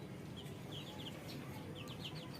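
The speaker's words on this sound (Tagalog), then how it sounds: "Ito, malapit na din dumami ang mga manok natin." Several Rhode Island chickens cluck in short, quick bursts, fairly faint over a low, steady background hum.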